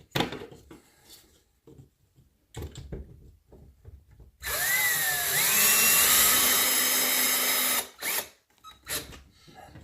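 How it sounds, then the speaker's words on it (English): A power drill drives a self-tapping screw into a wall to mount a Nest thermostat plate, whirring loud and close for about three seconds, with a rising pitch, after some quieter handling clicks and taps. "And we'll go ahead and screw this first screw in."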